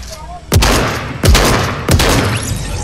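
Three loud booming blasts at even intervals in Fortnite, each a sharp crack followed by a long rumbling decay, close and dominant over a low background.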